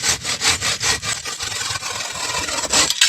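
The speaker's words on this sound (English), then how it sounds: "This is a silky saw." A Silky hand saw cuts through wood in quick, rhythmic push-pull strokes, each stroke rasping close and clear with nobody talking.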